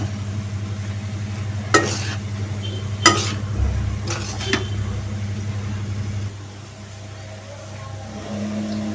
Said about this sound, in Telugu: ఉడికించుకున్న రైస్ వేసుకున్నామండి ఇప్పుడు బాగా కలుపుకోవాలి